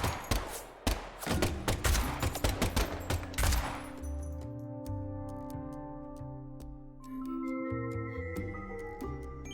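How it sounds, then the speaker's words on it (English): Rapid bursts of video-game gunfire from Deadly Premonition 2, a fast rattling volley of sharp shots in the first few seconds, followed by sparse clicks over a lingering low musical drone. "And the last gunshot we heard sounded ominous, Zack."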